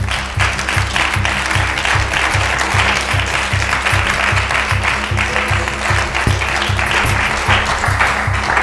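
Congregation applauding in a church, a steady dense wash of clapping held at an even level throughout, with a low rhythmic pulse underneath that suggests music or rhythmic clapping.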